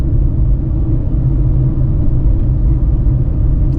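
Inside a Tata Punch on a test drive, the engine pulls in third gear with a loud, steady low rumble and road drone filling the cabin, continuous and without talking.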